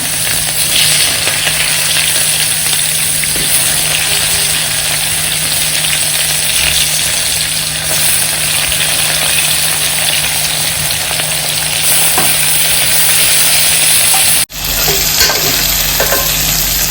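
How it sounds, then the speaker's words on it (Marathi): Onion sautéing for val khichdi fills the recording with a loud, close, constant sizzle and soft stirring scrapes, briefly cut near the end before resuming, with no talk. "हे आधी सगळं व्यवस्थित परतून घेऊया"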